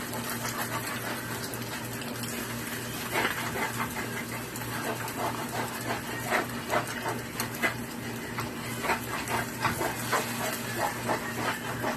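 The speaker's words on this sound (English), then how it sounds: "So you just scramble it all up. Just stir it, fold it into each other until it's finished cooking." Egg is scrambled and stirred in a hot pan for shrimp and chicken fried rice. A spatula scrapes and taps rhythmically over a continuous sizzle and a steady background hum.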